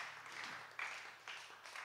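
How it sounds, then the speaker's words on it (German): An audience claps for the person running the projector at a gathering. The applause is faint and distant, a soft, steady patter with a few louder swells, and no voices over it. "Mal Applaus für den Tim"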